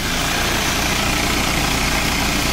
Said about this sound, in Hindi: उसके बाद आती है ये मशीन है, इसमें इसकी प्रॉपर सिलाई होती है।